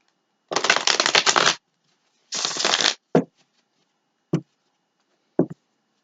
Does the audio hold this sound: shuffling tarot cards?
yes